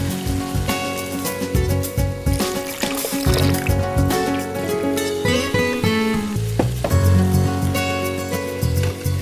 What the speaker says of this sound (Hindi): अब इस मसाले को भुनना है हमने तेज़ आंच पर तकरीबन 10 मिनट के लिए